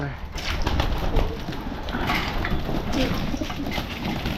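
Breeder pigeons cooing and bustling at feeding time, with soft repeated coos and some wing and shuffling noises close by, and a person talking over them.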